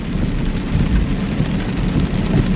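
Heavy autumn rain pours down outside a house, a loud, steady, dense hiss of drops with a low rumble beneath and no voices.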